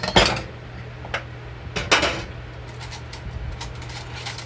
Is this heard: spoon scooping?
yes